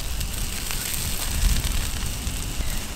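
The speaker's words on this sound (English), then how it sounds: "there's the rain as well" Rain falls on a campsite as a dense, continuous patter with a broad hiss, fairly close and steady for the whole stretch, with no voices.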